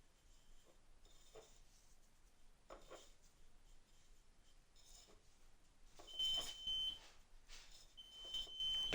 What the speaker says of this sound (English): That's the sound of the oven.